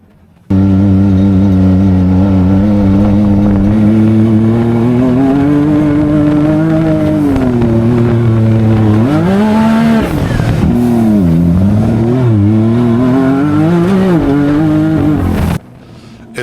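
A Can-Am Maverick R side-by-side with a tuned transmission, revving hard up a dune. The loud, close engine climbs in pitch, drops as the gearbox downshifts, and surges again several times before cutting off.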